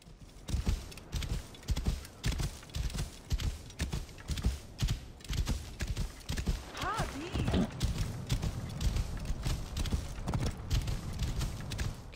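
Rapid horse hoofbeats clatter in a steady galloping rhythm throughout in the video game Assassin's Creed Origins, with a brief whinny midway and talking mixed in over the hooves.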